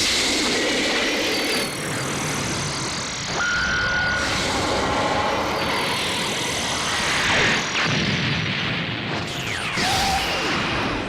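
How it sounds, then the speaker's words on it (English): Special Beam Cannon energy attack in DragonBall Xenoverse 2, a long roaring, rushing blast with whooshing sweeps and bright tonal streaks layered over game effects, loud and continuous throughout. "Special Beam Cannon!"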